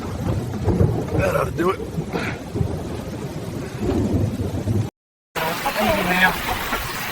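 An approaching mountain thunderstorm brings a steady wash of heavy rain with low rolling thunder throughout. Someone speaks briefly over the storm, and the sound drops out for a moment before the downpour returns.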